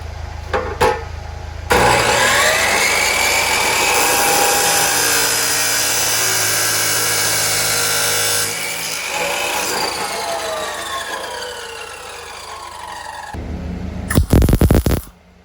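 Power tool cutting a metal part for a steering wheel hanger, a loud continuous grinding whine that shifts in pitch as it bites, close, ending with short harsh bursts.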